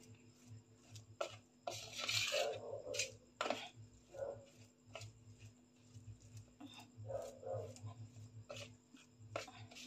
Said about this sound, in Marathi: आता हे चमच्यानं व्यवस्थित हे मिक्स करून घेते आधी।